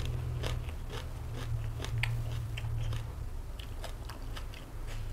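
Crunchy bites and chewing of a dried fish sheet eaten with fresh chili and sticky rice, a series of sharp close crackles and crunches spaced irregularly over a low background hum.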